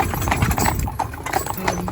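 A young fell pony's hooves clip-clop steadily on a road in a brisk, even rhythm, close and prominent, with a voice speaking faintly underneath.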